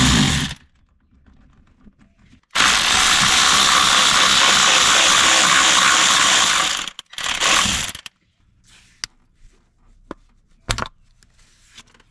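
A ratchet whirs loudly in a long continuous burst while undoing the 12mm nuts on the thermostat housing of a Hyundai i30, then a shorter burst follows before a few scattered clicks and near silence.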